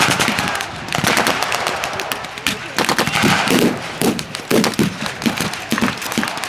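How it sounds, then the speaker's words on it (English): Rapid bursts of gunfire crackle through a World War II battle as British troops fire and move forward, loud overlapping volleys and single shots rattling continuously with a narrating voice underneath. "One troop firing while the other group moves forwards."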